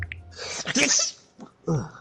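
A single sharp human sneeze with a breathy intake before the burst, close and clear, followed by a short voiced sound.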